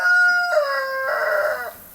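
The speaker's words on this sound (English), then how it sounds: "Good for you, rooster. Now go somewhere else and crow." A rooster crows once nearby, a loud, drawn-out call with rising and falling pitch that lasts about two seconds, heard alone without talk.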